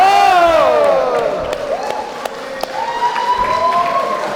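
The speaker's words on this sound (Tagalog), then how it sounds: "Sobrang ingay na. Sobrang ingay ng crowd." A wrestling event crowd roars and cheers loudly, sustained shouts and whoops filling the arena with a few sharp claps and thuds cutting through.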